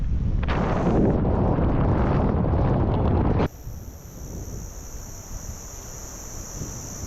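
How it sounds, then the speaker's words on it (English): Strong beach wind roars and buffets the microphone in a loud, steady rush, then cuts abruptly to a quieter, softer breeze with faint hiss. "It's windy."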